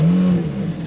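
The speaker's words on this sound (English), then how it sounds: "Let's see if the car starts real quick, so you guys can actually hear it." Toyota Celica turbo with a straight-pipe exhaust starting up, giving a loud, deep engine drone that holds steady and then eases slightly as it settles, close by and with no talking.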